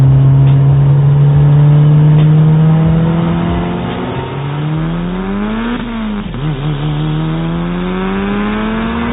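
An all-wheel-drive race car making about 300 kW at the wheels, with a twin-disc clutch and semi-slick tyres. The engine drones loudly at high revs, then its pitch dips and climbs through repeated revving sweeps, close and unaccompanied by speech.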